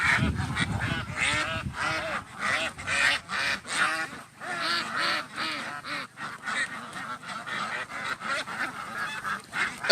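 A crowded flock of ducks in a pen on an Isan duck farm in Thailand keeps up a loud, continuous chorus of overlapping quacks and honks, close by, with no talk over it.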